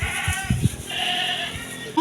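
Bleating from livestock, likely goats, kept by a fisherman: several short nasal bleats in quick succession, fairly loud and close, with a higher cry at the very end.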